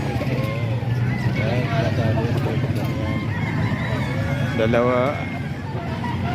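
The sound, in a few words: chicken (gamefowl) clucking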